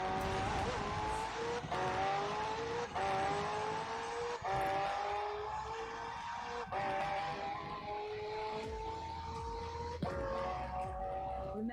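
McLaren twin-turbo V8 hybrid with an electric motor in Forza Horizon 4, revving steadily with a rising and falling engine whine, shifting through gears with brief dips, and heard close and continuous for several seconds.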